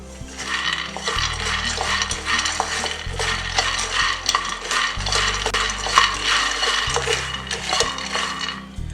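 Continuous dry rattling and scraping as peanuts are stirred and roasted in a pan, with a steady low rumble underneath and no voices.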